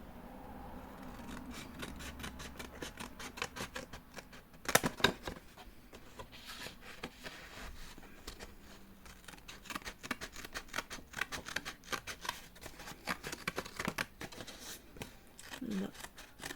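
Scissors cut through thick black paper in a series of crisp, rapid snips and rasping strokes, close and clear, with a louder crunch partway through and French speech heard intermittently over the cutting.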